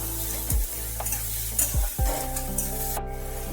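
Spoon stirring and sautéing ingredients in a hot pan for a chicken kachori filling, a continuous sizzle punctuated by several distinct scraping thuds, with no talk.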